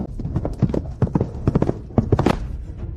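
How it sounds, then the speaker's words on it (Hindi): A horse's hooves clip-clop loudly and close in a steady run of strikes as the horse is reined to a halt, amid a dense, busy background. "राजकुमार ने घोड़ा रोक लिया।"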